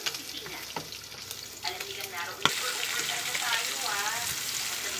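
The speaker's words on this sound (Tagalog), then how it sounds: "Tapos sinunod ko na yung bawang, sibuyas at saka kamatis." Pork frying in a pan with garlic, onion and tomato, a steady sizzle under repeated scrapes and stirs of a spatula, growing louder and busier partway through, close by with no talk.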